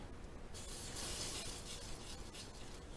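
A faint aerosol spray of WD-40 hisses in a sustained burst during sanding, with a short hissing texture over quiet background noise.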